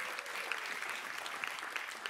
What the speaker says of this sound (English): Come on, give the Lord a clap.